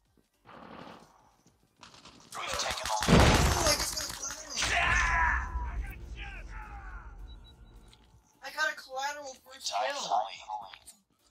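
A grenade goes off during a Killhouse match in Call of Duty Mobile, a sharp loud blast followed by a rumbling tail, amid in-game gunfire, shouted callouts and someone talking.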